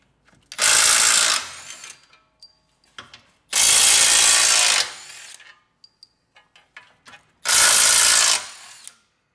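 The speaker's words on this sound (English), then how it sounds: "New brushless snap-on 3/8 impact." A new brushless Snap-on 3/8-inch impact wrench removes 15 mm bolts during transfer case removal on a Traverse, Acadia or Enclave. It fires three loud, close hammering bursts of about a second each, with small clanks and ticks in the pauses between them.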